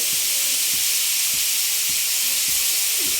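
Food fries in a pan with a loud, constant hiss of steam and sizzle, while a spoon stirs it in regular scraping strokes about every half second, close by and with no talk.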